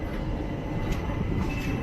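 The 12602 Chennai Superfast running past a goods train it is overtaking, a loud, steady rumble of wheels and carriages heard from inside the train.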